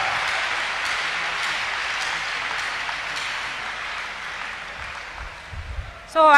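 Congregation applauding during a church deliverance service, steady sustained clapping that fades slightly toward the end before a voice cuts in sharply at the close.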